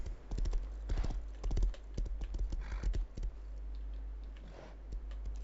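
Horse hooves clip-clopping in the survival game Rust, a quick irregular run of sharp knocks over a steady low hum, thinning out toward the end.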